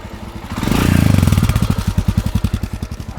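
A Royal Enfield Scram 440 motorcycle engine revs up loudly and close, then falls back into a fast, even thumping of exhaust pulses that slowly fades.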